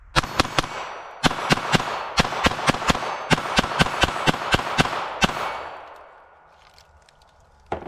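Sig Sauer P322 rimfire pistol firing Federal Auto Match bulk pack rounds, a rapid string of about fifteen loud, sharp shots in quick cadence, then a fading echo and near silence.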